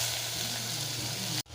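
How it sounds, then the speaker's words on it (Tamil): Chopped onions hiss and sizzle loudly in hot groundnut oil, a dense crackling fry held close for over a second before it cuts off sharply. "இந்த கட் பண்ணியிருக்கிற வெங்காயத்தை இதில் போட்டுடலாம்."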